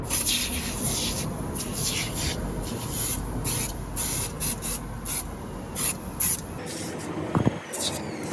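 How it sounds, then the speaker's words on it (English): A rusty, gunk-covered underside of a Ford Mondeo that failed its MOT is scrubbed by hand: continuous close scrubbing and rasping strokes, loud and rhythmic, with a light knock near the end and no talking. "I'm just want to clean all this off, so I'm getting the gunk out again and having a little go at it."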